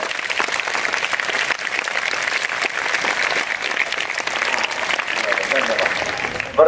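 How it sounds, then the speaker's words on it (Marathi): Students at a school magic show clap loudly together, a dense and continuous burst of applause from a close crowd that holds steady for several seconds. "दोघं हात वर करून जरा जोरात टाळ्या वाजवा"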